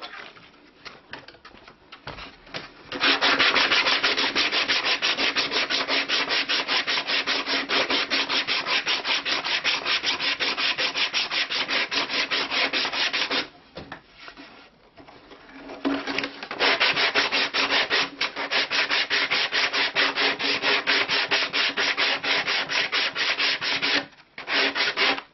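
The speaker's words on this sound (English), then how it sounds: "here I'm going to use a 60 grit to do some more sanding on the end." Steady, rough rasping of 60 grit sandpaper scrubbing the end of a wooden lyre, close and loud, with brief pauses between long continuous strokes.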